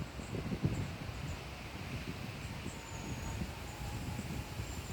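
Wind blowing on a May day makes a steady, full rushing roar with gentle gusts and a low rumble, close to the microphone and alone without voices.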